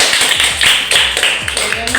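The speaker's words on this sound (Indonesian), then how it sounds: "Saya mau tepuk tangan sekolah." A school class claps hands together in a quick, regular rhythmic pattern of about eight sharp, close claps in two seconds, with a voice faintly heard alongside.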